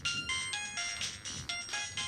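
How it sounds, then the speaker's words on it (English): Incoming phone call ringtone arriving through a Solidyne UNIDEX UX18 broadcast mixer, a repeating bright electronic melody in quick pulses, close and clear. "I'm receiving the call through my phone."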